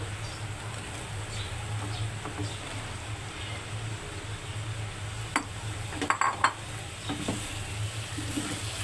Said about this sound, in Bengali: কেটে রাখা বেগুন দিয়ে দিচ্ছি